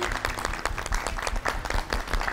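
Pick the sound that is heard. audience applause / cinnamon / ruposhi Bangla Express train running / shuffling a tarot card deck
audience applause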